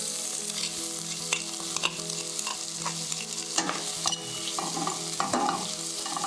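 Chili and garlic frying in a pan, a lively close sizzle broken by repeated scraping and tapping as a utensil stirs them round, fairly loud with no talking.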